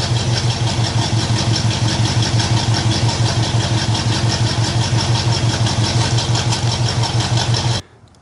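A 1969 Camaro V8 running steadily after being fired up, with a loud, close, rhythmic idle lump throughout before cutting off abruptly near the end; no talk.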